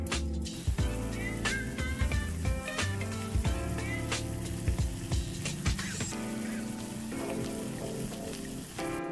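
Parmesan crusted chicken sizzles undisturbed in a pan, a continuous close crackle with scattered sharp pops and spits, no voices over it.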